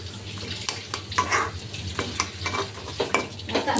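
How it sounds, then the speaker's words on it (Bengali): A spoon stirs salt into a bhorta mash frying in a pan, giving scraping, clattering strokes over a continuous soft sizzle, close and fairly loud, with no talking. "লবণটাকে ভালোভাবে নেড়েচেড়ে মিশিয়ে নিচ্ছি"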